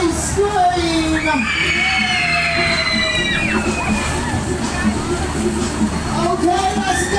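Riders scream and shout aboard a spinning Rogers Dance Master Waltzer at a fairground, a loud, continuous chorus of overlapping high cries and whoops with crowd hubbub beneath.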